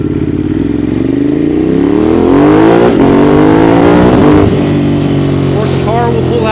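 A Ducati Monster 821 engine downshifting with a quickshifter, loud and close, the revs sweeping up and dropping in stepped blips as gears change, with wind noise and someone talking over it.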